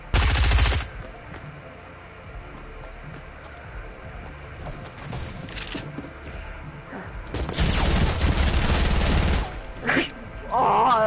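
Bursts of gunfire from the Fortnite video game: a loud burst at the start, scattered shots through the middle and a dense volley near the end, with game effects between them.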